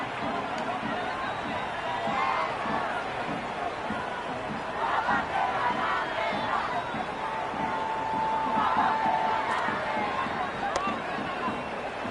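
A dense stadium crowd in a Cricket 26 video game match between India and Pakistan cheers in a steady, continuous roar that holds at the same level throughout, with no break in the noise.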